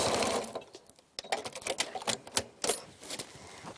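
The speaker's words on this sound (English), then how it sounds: "I'm sewing the top edge of the Velcro onto the front side of the fabric, right along the edge." A sewing machine stitches the top edge of a Velcro strip onto the front of a fabric window shade, running in close bursts of rapid mechanical stitching with brief pauses between runs.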